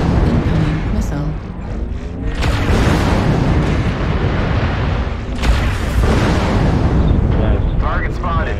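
Missile launches and explosions in the MechWarrior Online mech combat game, with a Cicada firing LRM10 launchers, producing loud rumbling blasts and crackling impacts over a constant heavy battle din, with sharp bursts recurring near the start and middle.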